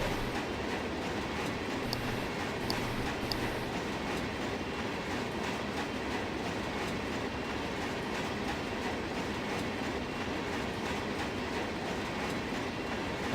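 An Amtrak train in the Run8 rail simulator passes with a continuous rumble, steady wheel clatter and faint squeals, at an even, moderate level throughout. No one speaks.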